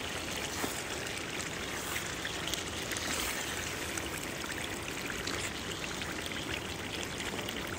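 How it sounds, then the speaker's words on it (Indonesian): Water pours steadily into beef rendang cooking in a pot, a continuous, even rushing hiss with no breaks, heard close up. "saya tambah airnya sekitar segitu banyak"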